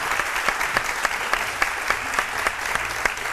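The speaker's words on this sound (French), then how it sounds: "Madame Toukam Valérie, que je vous demande d'applaudir très très fort" A studio audience on a midday TV talk show applauds a guest arriving on set, with dense, steady clapping throughout and no voices.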